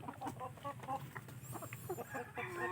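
Rhode Island hens cluck in a backyard coop, a steady run of short, close clucks and murmurs with a few brief higher calls, continuous throughout.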